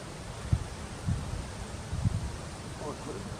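Steady wind buffets the microphone at a tidal shoreline with the tide running out, a constant low rumble broken by several stronger gusts.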